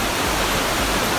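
Iguazu Falls roaring as a loud, steady wall of broadband rushing water, close and continuous with no voices.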